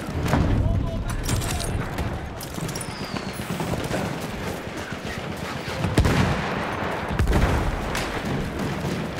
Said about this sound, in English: Lots of explosions going off everywhere